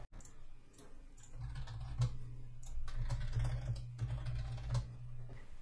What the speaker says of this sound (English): let's create a simple service called WittCode service inside a folder called services